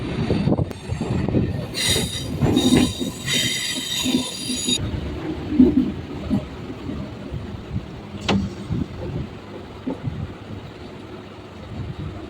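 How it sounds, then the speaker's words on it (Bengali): A Howrah–Belur Math local train runs steadily on its rails, with a continuous close rumble and rattling carriages, scattered clanks and brief high wheel squeals, and no voices over it. "আমাদের ট্রেন এখন একদমই কাছাকাছি চলে এসেছে বেলুর মঠ স্টেশনে"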